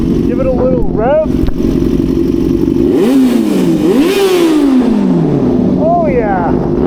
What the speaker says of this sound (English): If you want to hear how good this exhaust sounds right now,